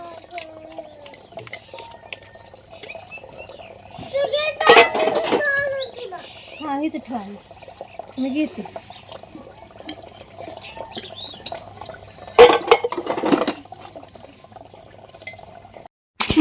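Dishes and pots are washed with water, giving scattered clinks and clatters with two loud bursts of rinsing and scrubbing, while someone talks between them.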